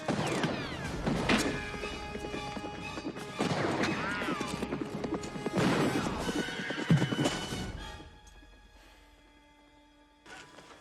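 A horse whinnies loudly several times over repeated hoof clip-clops and creaking, the calls close and shrill before fading into quieter tones at the end.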